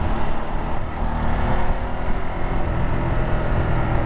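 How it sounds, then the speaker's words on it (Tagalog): Busy road traffic on a hot long weekend heard from a riding Ducati Multistrada V2, a continuous rumble of many engines and wind, close and steady, no voices. "ay ang daming sasakyan"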